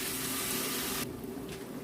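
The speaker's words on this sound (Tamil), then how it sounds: "இப்போ கொஞ்சமாக தண்ணி ஆட் பண்ணுறேன்." Water pours in a steady hissing stream for about a second into a pan of crab being cooked, then the sound drops to a softer wash with a brief splash near the end.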